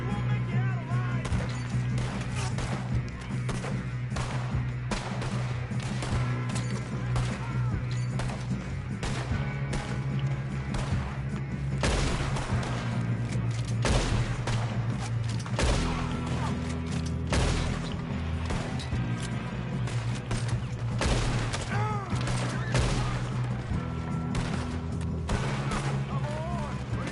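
Rapid gunfire crackles throughout a shootout in the video game Red Dead Redemption 2, dense repeated shots and impacts over a continuous low rumble, with voices talking on top.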